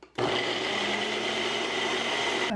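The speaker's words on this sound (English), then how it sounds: "So we're just going to blend this up and then add the chili mixture to the slow cooker." A blender whirs steadily at close range, chopping chipotle peppers, garlic and a cup of water into a chili sauce, starting abruptly and running at a constant loud pitch for a couple of seconds before cutting off.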